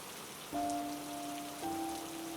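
Steady rain falls in an even, dense hiss throughout, while a low humming tone drifts in twice beneath it.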